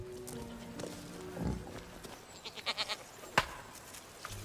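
Goats bleat while being milked, with a few wavering calls and scattered thumps and soft knocks around them, fairly quiet and close.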